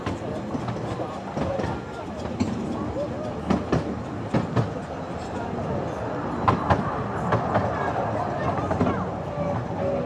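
A train on the Ravenglass and Eskdale Railway in the Lake District approaches Dale Garth station, with rhythmic wheel clicks and rumbling under scattered outdoor chatter.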